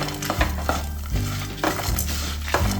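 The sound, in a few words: dry red chillies frying and being stirred in a pan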